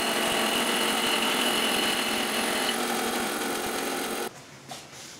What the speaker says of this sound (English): So I have it set up now to cut off this first sacrificial piece of the segmented disc.